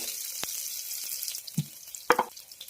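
Small onions sizzle in hot coconut oil with salt, a steady broadband hiss broken by a few sharp stirring scrapes and clicks near the end.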